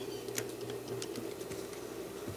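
A sewing machine back stitches the welt on a throw pillow, giving quiet, steady mechanical whirring with light clicking taps.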